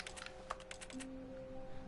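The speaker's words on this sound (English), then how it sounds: "I can just push X and it sounds like a keyboard?" A short burst of soft keyboard-like clicks in quick succession in the game The Stanley Parable, then a steady electronic hum with a faint tone underneath.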